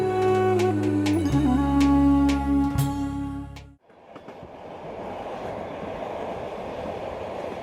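Orient Silk Road Express passenger train running on rails across the Central Asian steppe: a loud sustained horn chord holds for about four seconds, then gives way to a steady rushing roll of wheels on track.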